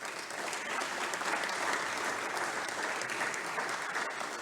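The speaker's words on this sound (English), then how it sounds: "Please let's applaud the winners from Sri Lanka for the Sampriti Children with Disability Welfare Project." Audience at a World Day of Prayer and Action for Children event applauding award winners, sustained even clapping from a crowd, moderately loud and continuous throughout.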